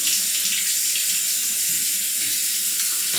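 Tap water runs in a steady, loud, broadband hiss into a sink during rinsing after a shave, continuous for the whole stretch with no talk.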